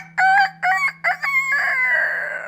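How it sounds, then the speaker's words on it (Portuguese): A single rooster gives a loud, close cock-a-doodle-doo crow in three sharp opening notes followed by a long, drawn-out final call, set within a children's farm-animal story. "Estufa o peito e solta aquele cocoricó bem forte."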